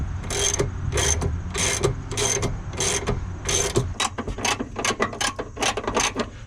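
A ratchet wrench tightens a washer and nut on the rear Bilstein Z51 shock of a 1985 C4 Corvette, giving close, rapid clicking strokes in short bursts that quicken toward the end.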